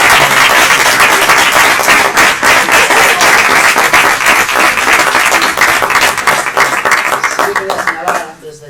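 Loud, dense audience applause at a public talk and colloquium on inclusive public services in Tordesillas, a continuous crowd of clapping hands filling the room for about eight seconds before fading out.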